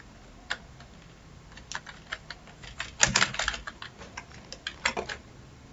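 Someone typing on a computer keyboard while designing a flyer, with irregular soft key clicks and a few quicker flurries, close and fairly quiet, and no talking.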